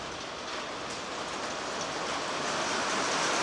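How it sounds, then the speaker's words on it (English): Heavy rain pounding steadily outdoors beside shallow water, a dense, loud, unbroken hiss that builds slightly toward the end. "This rain is crazy."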